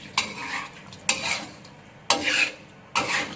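Four distinct bursts of wet scraping as shrimp marinated in lime juice and salt are stirred in a bowl, close and loud with short pauses between strokes, no talk.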